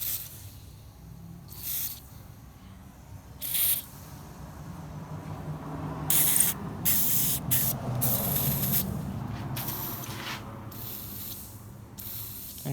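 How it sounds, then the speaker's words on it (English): Penetrating oil sprayed from an aerosol can onto a stuck part of a YZ250 dirt bike, several short hissing bursts of varying length, some quick and some sustained, close to the microphone over a low background rumble. "Some penetrating oil."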